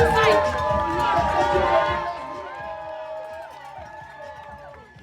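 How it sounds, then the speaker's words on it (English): At a city marathon, spectators along the course cheer and whoop loudly, with tonal noisemakers or horns sounding through the crowd. The noise fades gradually over several seconds, and speech is mixed in. "Well, we heard the crowd,"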